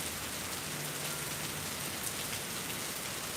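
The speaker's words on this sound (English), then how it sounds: "Also, enjoy the sound of the rain." Steady rain falls in Ohio during an outdoor mindfulness service, a soft, even hiss of drops on surfaces with no voices, constant and moderately close throughout.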